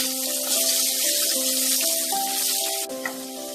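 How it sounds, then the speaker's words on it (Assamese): Potatoes frying in hot oil in a pan, left over from frying eggs for an egg masala curry, give a steady, close broadband sizzle that runs unbroken, with a faint tonal hum beneath it. "আলুখিনি ভালদৰে ৰঙচুৱা হোৱালৈ ভাজি লওঁ।"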